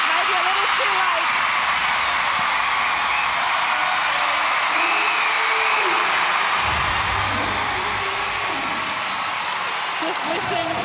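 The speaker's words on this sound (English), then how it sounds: "Just listen to the crowd here at John Cain Arena." Netball crowd at John Cain Arena roaring after a Vixens win in a Suncorp Super Netball match, a loud steady wash of cheering and applause filling the arena throughout, with a commentator talking over it.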